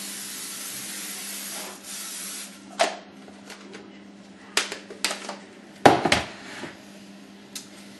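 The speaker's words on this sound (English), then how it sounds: "then we're gonna get our cooking spray" Cooking spray hisses onto a jelly roll pan in a home kitchen in a few short, close bursts, with light clatter of the pan in between.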